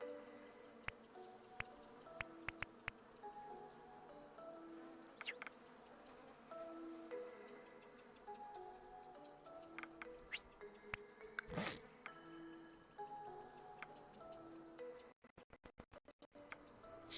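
Dense, steady buzzing of a large swarm of bees in the hive-building game Hive Time, layered with scattered clicks and short game tones, continuing for the whole stretch and cutting to sharp clicks near the end.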